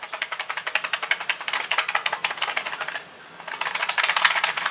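A deck of Gold Standard playing cards rattles loosely inside its box as it is shaken, producing quick rhythmic clattering bursts, a brief pause, then more shaking, close and clear.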